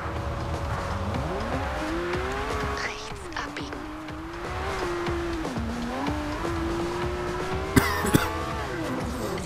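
A McLaren P1 hypercar in the video game Forza Horizon 2 drives with a steady engine drone that rises and dips as it shifts and accelerates, with brief tire noise, and someone talking now and then.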